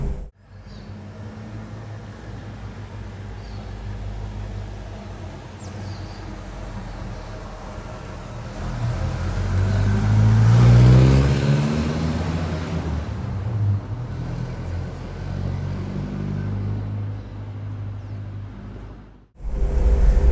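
Chevrolet Opala with the 2.5 four-cylinder engine from a 1970s luxury classic, running steadily with a low, continuous engine drone that swells briefly midway and then settles, heard alone at close range before cutting off near the end.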